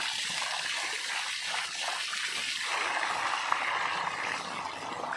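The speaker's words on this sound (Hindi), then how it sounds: "ये है हमारा देसी शावर।" Water pours from a motor-fed makeshift bucket shower in a village, a steady close rush and splash that runs continuously with slight shifts in texture and no talking.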